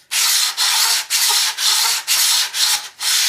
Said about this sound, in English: So I just grabbed myself a bit of sandpaper with a bit of a pad